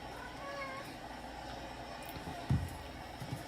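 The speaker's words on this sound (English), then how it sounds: "That's my cat." A domestic cat gives a short, fairly faint meow near the start, followed by a few soft bumps and light room noise.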